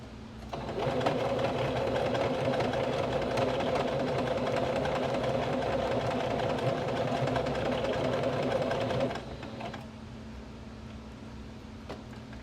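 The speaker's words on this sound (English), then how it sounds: "I think I'm going to actually do a zigzag stitch around the edge of this patch first" A sewing machine runs steadily while zigzag stitching around the edge of a patch on a pair of jeans, a loud continuous mechanical hum that stops near the end and leaves a quieter background.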